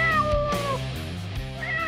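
A small cat gives two close, clear meows, one at the start and another near the end, with a short pause between them and no talking.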